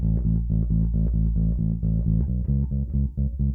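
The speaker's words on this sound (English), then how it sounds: "Next, I wanted it to sound a bit thicker, so I added in this distortion." An electric bass with distortion, part of a mix of Foo Fighters' "Best of You," plays a thick, gritty line of repeated, evenly pulsing notes. It sounds loud and alone, with no voices.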